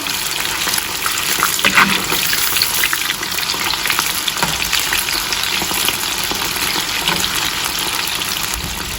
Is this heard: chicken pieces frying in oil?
yes